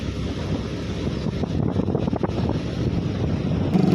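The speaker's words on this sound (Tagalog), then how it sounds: "Ang ingay ng motor kaya hindi ako makapag-video ng maayos." A boat motor drones steadily and loudly throughout, mixed with rushing wind buffeting the microphone and the wash of water.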